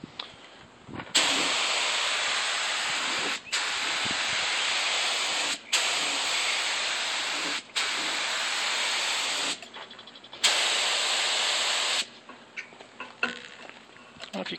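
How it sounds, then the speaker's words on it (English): Sprayit SP-33000 LVLP paint gun spraying paint, a series of loud steady hissing bursts, each a couple of seconds long and separated by brief pauses, close by with faint clicks between. "let me spray out a little bit of this pattern"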